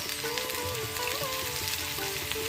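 Mustard seeds and cumin sizzle and crackle in a spoonful of hot oil for a spring onion bhaji, a close, steady frying hiss with scattered pops and a faint tonal hum underneath.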